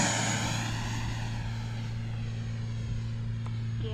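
A radio-controlled E-Flite Viper airplane drones steadily overhead on a hot summer day, its engine hum constant with a faint shifting whine as it passes at a distance.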